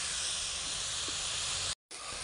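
Garlic, ginger and green chillies sauté in hot oil in a pan for a chicken roast, a steady loud sizzling hiss that cuts out briefly near the end and then resumes.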